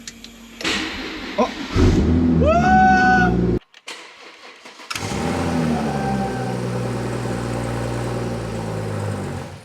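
A BMW M140i engine, fitted in a converted 114i, cranks and briefly catches with a rising rev before cutting out. After a short gap it resumes a steady, close mechanical running drone, and a voice briefly exclaims.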